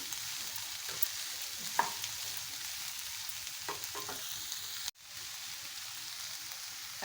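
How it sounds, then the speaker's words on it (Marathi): Chopped cowpea greens cook in a pan with a faint, even hiss of frying and occasional light clicks of stirring, quiet and continuous throughout, with no one speaking. "चिरलेली चवळीची भाजी घालूया आता ही सगळी भाजी मी आता त्याच्यामध्ये पॅनमध्ये घातलेली आहे"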